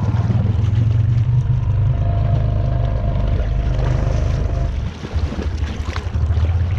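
A 420 ATV with floating tires backs up in reverse at night, its engine droning loud and close with a steady broadband roar that dips briefly near the end.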